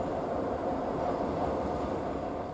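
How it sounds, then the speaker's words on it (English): A Class 153 single-coach diesel rail car, converted from a two-coach Class 155 unit and serving rural Norfolk branch lines, gives a steady, moderately loud rumble of running on the rails, with no talk. "single coach rail cars converted from a two-coach Class 155 diesel multiple unit in the early 1990s"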